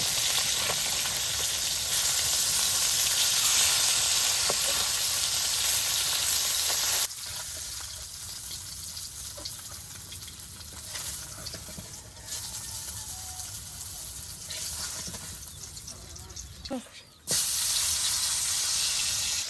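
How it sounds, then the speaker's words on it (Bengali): Fresh river fish fry lightly in soybean oil in a pan, giving a loud, continuous sizzle and crackle that quiets partway through and then returns strongly near the end. "যে মাছগুলো হালকা করে ভেজা নিতেছি"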